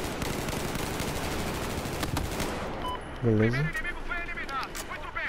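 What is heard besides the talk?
burst-fire rifle shooting rapidly, Battlefield 4 video game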